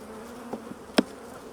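Honey bees at a hive with a drone-laying queen give a soft, steady buzz close by, broken by a few brief sharper knocks or clicks.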